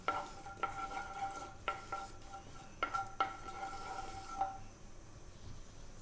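Cumin seeds in hot coconut oil in a pan give off a faint hiss, punctuated by several sharp metallic clinks and taps of a utensil against the pan.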